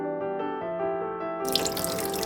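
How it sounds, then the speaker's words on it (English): Water poured over the top of a potted Nepenthes pitcher plant splashes and gurgles near the mic, with a steady tonal running sound that turns to a brighter, louder splash partway through. "Finally, water the top and you are done."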